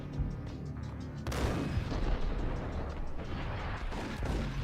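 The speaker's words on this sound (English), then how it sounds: "One shot from a shotgun, and I'm done." Shotgun fire and explosive impacts in the video game Max Payne: a sharp blast lands just over a second in, followed by dense, continuous gunfire and clatter that fills the rest of the stretch.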